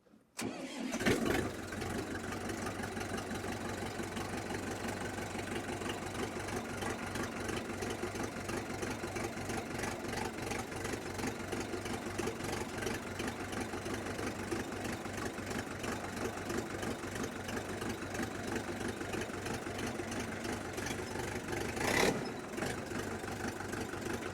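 A KENTAVR 504F mini tractor engine cranks and catches, then settles into a steady, close diesel idle that runs evenly for about twenty seconds, with a brief louder blip near the end.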